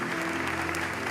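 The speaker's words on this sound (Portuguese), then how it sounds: "Quem pode dar uma salva de palmas ao Mestre Jesus?" Congregation applauding Jesus during a Sunday morning church service, a steady dense wash of clapping filling the room throughout, with a sustained tone running underneath.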